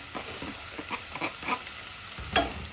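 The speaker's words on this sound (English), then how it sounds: "So we're going to saute that. We got our green onions. We're going to add our green onions." Green onions sautéing in a pan, with a soft sizzle under repeated scraping stir strokes and a louder clatter of the utensil near the end.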